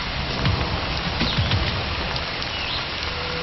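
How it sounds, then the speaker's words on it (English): Heavy tropical rain in Panama pouring steadily, a dense, loud hiss of falling water with scattered nearby drop impacts, continuous and alone throughout the short stretch. "The lake is replenished by Panama's heavy rains."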